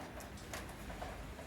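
Roller pigeons coo softly in a short burst, a low, muffled cooing close by with no talking.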